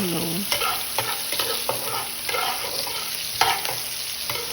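Garlic, ginger and onion sautéing in oil in a pan give a steady close sizzle, with repeated scraping strokes of a spatula stirring the aromatics, no voices.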